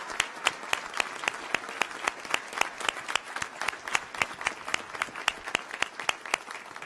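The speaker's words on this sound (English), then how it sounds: "a round of applause for those faculty who graduated their first PhD." An audience at a 2019 civil and environmental engineering graduation ceremony claps in a steady, dense round of applause, sharp individual claps standing out close by throughout, with no voices over it.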